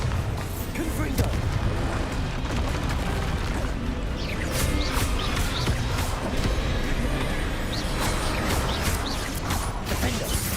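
Repeated spell blasts from Bombarda and Confringo in the Hogwarts Legacy video game burst in a dense, continuous barrage of booming, crackling impacts and clattering debris, loud and busy from start to finish.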